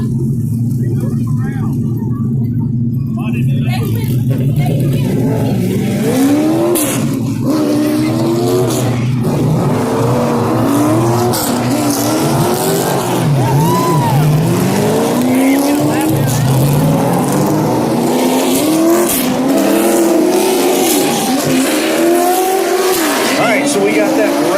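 Late model stock cars race around Ace Speedway, a loud, continuous roar of engines rising and falling as cars pass, with a voice talking over the din.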